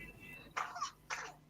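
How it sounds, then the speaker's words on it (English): A child coughs twice in short, close bursts, the second a little shorter than the first, with faint room noise between them. The coughing is heard indoors during a session. "my son is having cough"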